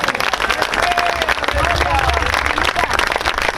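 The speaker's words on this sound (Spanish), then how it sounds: "Dale un fuerte aplauso a nuestro Señor" Congregation applauding the Lord during a Spanish-language sermon, brisk clapping from a crowd with voices and scattered cries mixed in, loud and continuous.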